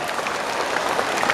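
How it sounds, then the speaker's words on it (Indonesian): Parents in a school event audience clap together, a steady, dense wash of applause from many hands, fairly loud and continuous without talk. "Tepuk tangan dulu."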